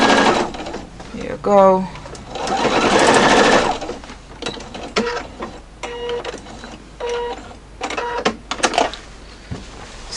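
An industrial Juki sewing machine stitching quilt binding, short bursts of fast mechanical stitching alternating with pauses and clicks, close, with a voice speaking briefly.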